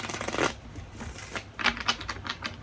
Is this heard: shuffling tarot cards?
yes